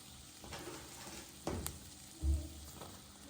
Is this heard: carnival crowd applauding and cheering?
no